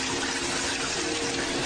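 A waterfall flows in a steady, dense rush of water that stays loud and constant, with no voices over it.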